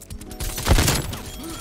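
AK-74U submachine gun fire in Call of Duty Cold War, a loud close burst of rapid shots blending into a dense crackle that swells and fades within under two seconds.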